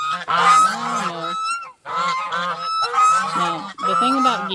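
Geese give loud, close honking calls, several overlapping nasal honks in bursts with short pauses between them.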